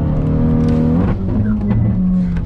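A car being driven accelerates hard, its engine note climbing steadily in pitch, then dropping at a gear change and rising again. The engine is loud and close, with no voices.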